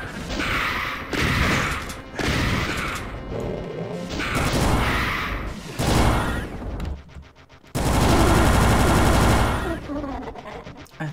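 Gunfire blasts and crashing impacts in Ultimate Doom, loud, dense bursts of shots coming in waves with brief lulls and a heavy sustained roar near the end.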